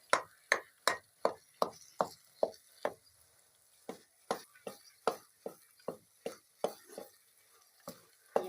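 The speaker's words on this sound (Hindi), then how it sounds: "ये हमारे मूंगफली हलवे की भुनाई हो रही है।" A spoon stirring and scraping peanut halwa as it roasts in a pan: a steady series of sharp, close clacks and scrapes in a brisk rhythm, with a short pause midway, quiet between strokes.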